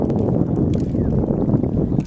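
Strong wind buffets the microphone at a beach near a mangrove walkway, a loud continuous low rumble of gusts with no talking.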